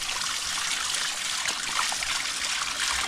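Wild mountain vegetable stalks are rinsed clean under running water in a village, with a steady trickle and splashing stream close by and no talk.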